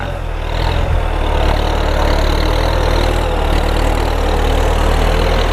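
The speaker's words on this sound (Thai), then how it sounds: "ขับง่ายขับคล่องนะครับ แท็กเตอร์คูโบตา" A Kubota M8808 88-horsepower tractor engine runs steadily at a low, even throb, loud and close throughout with no break.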